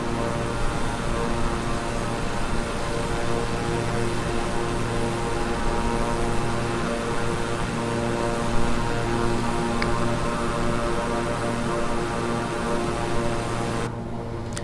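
Steady drone of a King Air 350i twin-engine turboprop in Microsoft Flight Simulator, a constant tonal propeller hum with layered engine harmonics, even and unbroken throughout before cutting off at the end.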